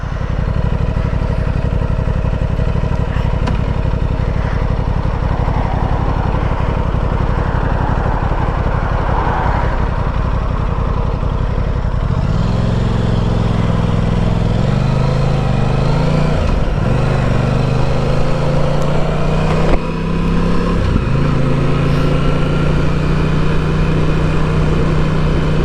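A 2023 Aprilia Tuono 660 Factory motorcycle engine idles loudly and close, then revs up with a throaty exhaust note that rises and falls several times.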